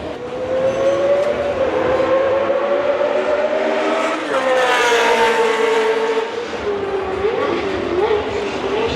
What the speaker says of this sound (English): Those are F1 classic cars going around the track.